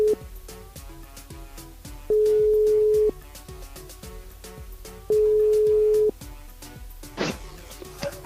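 Phone line ringing out while calling a listener on a live French radio show, with repeated long steady tones separated by pauses and music playing underneath.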